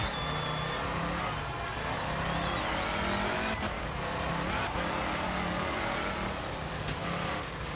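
A rally car in Art of Rally tears along an all-gravel stage, its engine droning and rising through steady revs with gear changes, loud and close, and a constant crunch of gravel beneath, with no talk.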